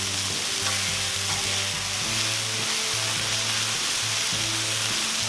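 Burger patties sear on a Cuisinart 360 griddle outdoors, a loud continuous sizzle and crackle over a low steady hum, with no voices.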